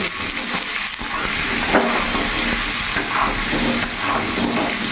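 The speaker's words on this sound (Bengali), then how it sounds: "একটু লাল লাল করে ভেজে নেব।" Potatoes and peas frying in a pan over a medium flame, producing a continuous close sizzling hiss with a few small stirring knocks, and no voices.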